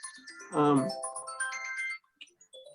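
A mobile phone ringtone plays a bright, repeating melodic tune for about two seconds, with a loud burst near the start, heard alone before it cuts off and a brief quieter tone follows.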